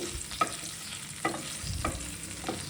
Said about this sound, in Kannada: ಈ ಥರ ಎಣ್ಣೆಲಿ ಚೆನ್ನಾಗಿ ಫ್ರೈ ಆಗಬೇಕು ನೋಡಿ.